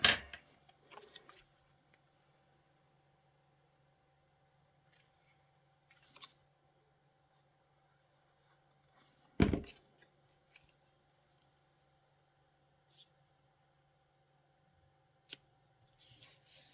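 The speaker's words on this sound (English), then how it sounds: "Just going to cut these little corners off a little bit." Scissors trimming small corners off paper during a spring-themed craft folio project, with a few sharp, isolated snips and soft paper handling in an otherwise quiet room.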